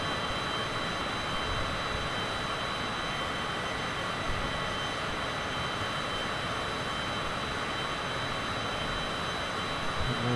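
A Citation CJ4 business jet's engines roar as a steady, broad, loud wash heard from inside the aircraft, with power being reduced during a landing approach around San Francisco Bay.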